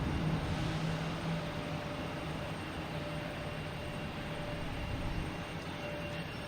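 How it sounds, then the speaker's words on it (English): A JetBlue Embraer E190 jet arriving at Boston Logan produces a steady distant engine rumble and whine, fairly faint and sustained throughout with a few tonal hums. "Next to arrive is JetBlue, flight 1554 coming in from DC."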